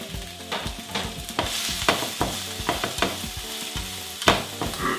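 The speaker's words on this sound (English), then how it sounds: "you just want to fry it for a while, maybe 2-3 minutes, just until it gets soft" Food fries in a pan with a steady sizzle, overlaid by repeated clattering scrapes of a utensil stirring at an uneven pace, close by and fairly loud.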